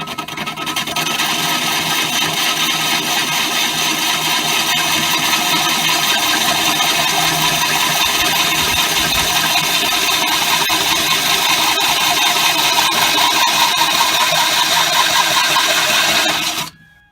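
A drill cuts a groove into metal while converting a 10-gallon tank to vertical, a loud continuous grinding rasp held steady for about sixteen seconds before stopping abruptly.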